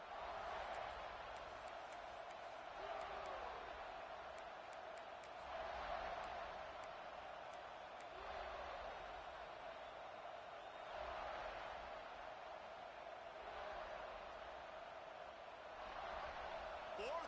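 College football stadium crowd noise from a packed ASU vs Florida game, a distant roar that swells and fades in waves beneath a steady commentator's voice.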